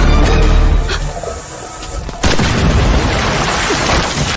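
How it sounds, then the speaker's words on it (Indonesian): A large explosion in an action film booms, then rumbles and crackles on as debris and fire roar loudly for several seconds. "menghindari ledakan besar"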